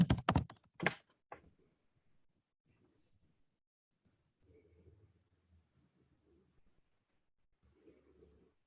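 Fingers tap out a quick burst of computer keyboard keystrokes, sharp and close, then stop. Faint low rustles and shuffles follow in an otherwise quiet room.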